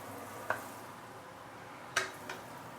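Curry powders sautéing slowly in a pan over low heat, a faint hiss with two or three clear scrapes and taps of a spatula stirring, close and quiet with no talking.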